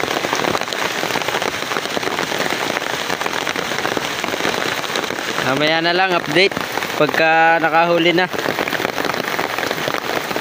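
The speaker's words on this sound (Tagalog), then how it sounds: "ang lakas ng ulan." Heavy rain pours steadily and loudly onto surfaces outdoors, a dense hiss that runs the whole time while a person speaks briefly over it partway through.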